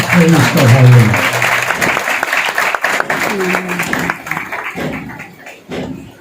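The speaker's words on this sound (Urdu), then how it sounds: "آئیے روح القدس کو، پنیما کو، ہولی اسپرٹ کو ہم زوردار تالیوں کے ساتھ ویلکم کریں گے." A church congregation claps loudly during a Holy Spirit series service led by a reverend, a dense burst of hand claps with a voice and musical tones over it that thins out into scattered claps and talk.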